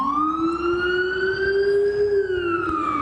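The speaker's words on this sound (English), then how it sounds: "Another ambulance arriving." An ambulance siren wails in a long, rising and falling tone, loud and close, as the vehicle arrives at a large New York hospital.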